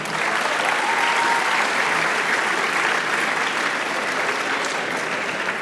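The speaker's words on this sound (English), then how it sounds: "please a round of applause for Sukwo Han" Sustained applause from an audience at an MBA and EMBA graduation ceremony, a dense, even wash of clapping filling the room from start to finish.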